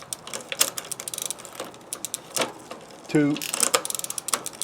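Gear shifter lever on a vintage bicycle clicks and ratchets repeatedly, a close run of sharp mechanical ticks with a brief word spoken partway through.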